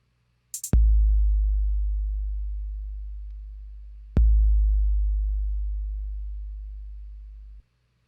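Synthesized low tone from a Max patch that starts with a click, then drops out and resumes after a gap, sounding twice as a deep hum that fades slowly each time.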